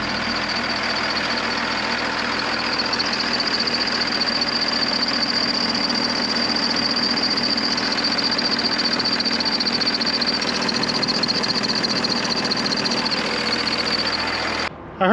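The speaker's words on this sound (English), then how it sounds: "I heard a squeaking while the engine ran." A 1953 Kenworth bus engine runs steadily at close range, a continuous rumbling drone with a thin, high squeak riding on top throughout.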